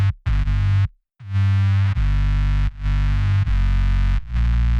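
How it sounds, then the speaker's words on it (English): A sub bass in Ableton Live passes through a tube distortion effect, loud, thick and buzzing with gritty harmonics. Sustained notes are cut by short gaps and one clear dropout near the start, then restart in a repeating pattern. "So I've chosen tube distortion here."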